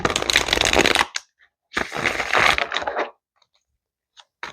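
Tarot cards are shuffled up close in two loud riffling bursts, each about a second long, separated by a pause. A few faint taps and card clicks follow before the sound falls quiet.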